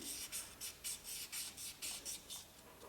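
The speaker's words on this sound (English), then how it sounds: "hand sanding the face of this" Steady back-and-forth hand sanding on the face of an old Venetian glass bead, about a dozen soft rasping strokes in an even rhythm, quiet and close.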